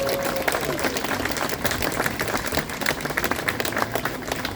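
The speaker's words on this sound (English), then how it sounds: "Let's give her a round of applause for that." Crowd at a Memorial Day parade in Forest Hills, New York City, giving a round of applause, dense outdoor clapping with faint murmuring, moderately loud and steady.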